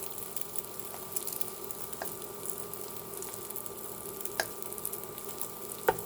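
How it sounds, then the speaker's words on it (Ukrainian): Eggs sizzle and crackle softly in a pan, a steady faint frying hiss with occasional small pops. "Смажемо яєчню до готовності"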